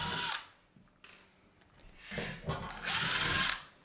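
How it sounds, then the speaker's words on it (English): A power drill runs at low speed on a car amplifier in several short bursts of whirring separated by pauses, close and fairly loud, with the last burst the longest. "I use this drill day in, day out. So I'm pretty confident at using it at low speeds."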